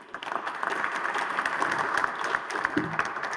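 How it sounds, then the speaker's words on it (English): Conference audience applauding junior researchers at a medical consensus meeting, a steady round of clapping from a moderately sized crowd, heard at a slight distance and fading in at the start. "A round of applause for them too, please."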